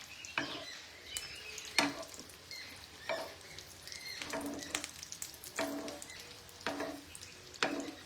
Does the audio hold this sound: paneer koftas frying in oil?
yes